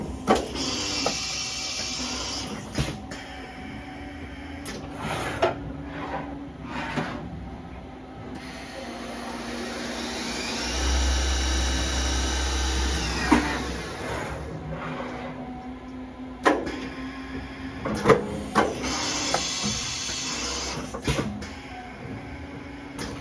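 A 2006 Fadal EMC CNC vertical mill running a loaded program, with whirring servo and spindle tones, rising and falling motor whines, and intermittent clunks and clicks from the axes moving, loud and close.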